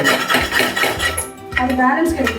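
An old dosa tawa being scrubbed clean with steady, repeated scraping and metallic rubbing strokes, close and fairly loud, with some clinking of the pan and utensils along the way.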